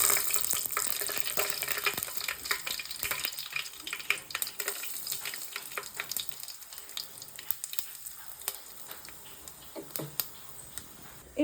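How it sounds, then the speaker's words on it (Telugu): Garam masala and dried red chilies fry in a little oil in a pan, giving a soft continuous sizzle broken by frequent crackles and light stirring taps. "కొంచెం 2 టేబుల్ స్పూన్ ఆయిల్ తీసుకొని ఇప్పుడు మనం తీసుకున్న గరం మసాలా వేసుకోవాలి."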